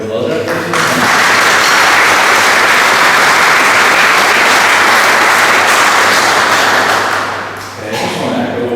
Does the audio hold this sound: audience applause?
yes